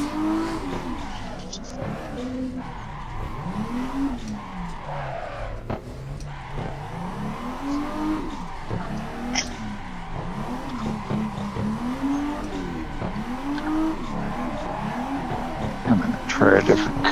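A car engine in a racing video game revs up and down in repeated cycles, with tire squeals and skids throughout and someone talking over the game audio.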